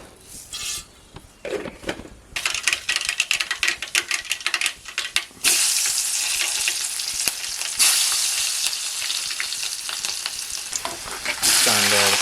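Mustard seeds hit hot oil, crackling and popping in rapid bursts and then settling into a loud, dense, continuous sizzle, with a short quieter pause partway through.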